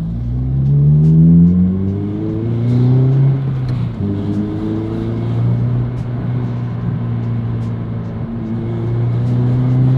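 Naturally aspirated car engine revving while driving, rising and falling whine as it climbs through gears, loud and close from inside the cabin, with no talk.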